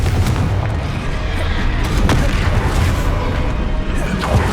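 Dense, booming blasts of the Confringo explosive spell fill a Hogwarts Legacy duel, with loud continuous rumbling and crackling impacts layered over combat noise and shouted spell incantations.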